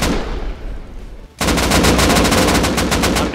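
Gunfire in the Rust video game during a tournament match: after a quiet moment, a loud sustained burst of rapid automatic shots rattles on without pause.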